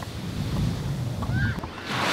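Surf washing onto a beach in Vanuatu, a steady low roar of breaking waves with wind rumbling against the microphone, loud and continuous throughout.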